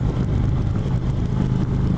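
A 2018 Indian Chieftain Dark Horse motorcycle engine runs with a deep, steady rumble held at a raised rev, loud and close throughout.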